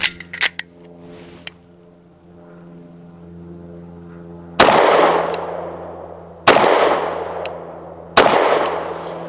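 Three loud, sharp pistol shots from a BUL Armory TAC PRO 5 firing Federal 124 grain HST rounds, evenly spaced about two seconds apart and each trailing off, after a few small clicks and a steady background hum.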